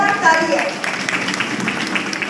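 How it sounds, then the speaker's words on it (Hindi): Applause from a gathered audience at a women and child development department event, a steady wash of many hands clapping at moderate loudness with voices mixed in. "जोरदार ताली है।"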